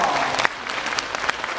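Audience applause welcomes a model mother at a Taichung city photo event honouring model mothers, a steady burst of many hands clapping close by that fills the whole short moment.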